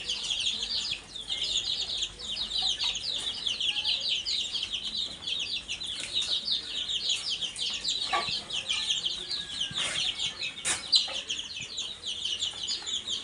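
Three quail in a backyard coop call for food, a dense, continuous chatter of high chirps and clucking notes that fills the whole stretch at moderate volume, with a few sharper calls standing out near the end.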